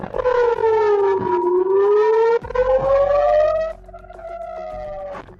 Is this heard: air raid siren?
yes